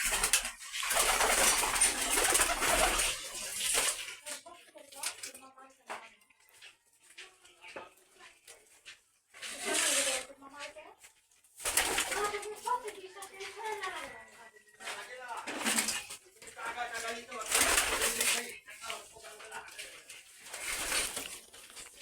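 Giribaz and Bengali pigeons coo in a loft, their soft calls rising between stretches of someone talking nearby, with occasional clatter and rustling.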